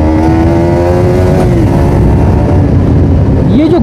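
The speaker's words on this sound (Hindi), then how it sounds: "ये जो ग्रंट दे रही है ना भाई, वो काफ़ी सुंदर दे रही है, ये ग्रंट काफ़ी सुंदर है" A Yamaha MT15 V2 motorcycle engine accelerates in first gear, giving a loud, steady grunt with a rising tone that falls off partway. It stays close and continuous throughout, and a voice faintly overlaps.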